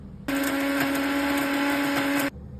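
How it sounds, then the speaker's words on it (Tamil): A blender grinding palak keerai (spinach) chutney to a fine paste whirs loudly for about two seconds, a steady high-pitched motor grind that starts and stops abruptly, with no talking. "இதை வந்து நம்ம நல்லா ஒரு ஃபைன் பேஸ்ட்டாக அரைச்சி எடுத்துக்க போகிறோம்"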